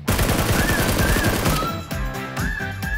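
An M249 machine gun fires in PUBG on Xbox One: a loud, rapid stream of shots for about a second and a half, then sporadic closer bursts and pops.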